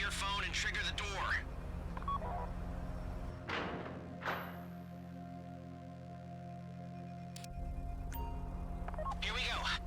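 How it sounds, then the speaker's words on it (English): A phone in GTA V dials to trigger a bank vault door during a Fleeca heist, giving short tone beeps and a couple of thuds over a steady low game hum, with voice chatter at the start and end. "Take out your phone and trigger the door."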